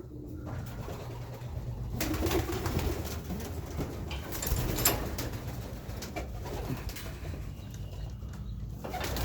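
Pigeons released from their loft for the first time, cooing with bursts of wing flapping, close and fairly steady throughout.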